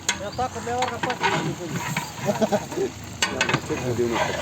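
Mutton curry stirred in a large pot over an outdoor wood fire for a village temple feast, with sizzling and scraping strokes in bursts, and people talking nearby throughout.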